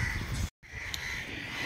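Crows caw loudly and close by at the Solapur Bhuikot fort among temple ruins, harsh repeated calls broken by a brief gap of silence.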